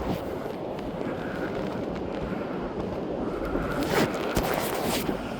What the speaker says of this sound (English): I'm just doing my zip up